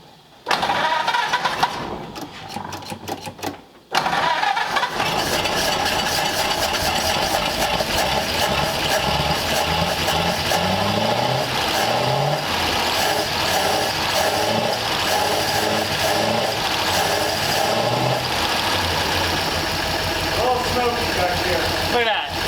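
A 1934 Ford Delivery engine cranks slowly, catches, and settles into a loud, steady rumbling idle with some rising revs, heard close up, while people talk nearby.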